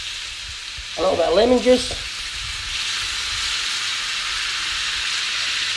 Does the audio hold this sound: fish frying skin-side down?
yes